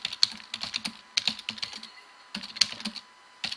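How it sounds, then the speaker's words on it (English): Fingers tap on a computer keyboard in quick, uneven clusters of close, crisp keystrokes with a brief pause in the middle, and no voices. "Let's just say you type in the body."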